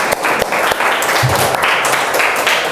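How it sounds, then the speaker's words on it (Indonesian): A class clapping together in a school religion lesson, a dense, close, continuous round of applause with a few sharper individual claps standing out, loud from start to finish. "Tepuk tangan untuk kita semua."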